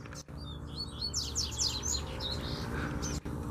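A female and male coleiro bird chirp and call at close range while fighting, quick bright twittering bursts over a low steady hum with a couple of sharp knocks.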